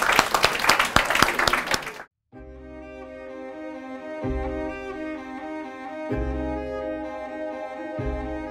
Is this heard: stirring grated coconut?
no